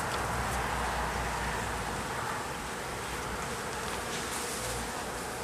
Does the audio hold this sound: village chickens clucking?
no